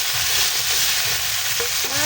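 Squash sizzling as it goes into a hot pan of coconut-milk vegetables, a steady loud frying hiss with faint stirring scrapes close by.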